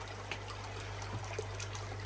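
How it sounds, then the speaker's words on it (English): Water trickles steadily through a homemade strainer in a koi fry tank, a soft continuous splash and dribble over a low pump hum, with no one speaking. "water comes out of there through my big ugly homemade strainer, gets pumped up"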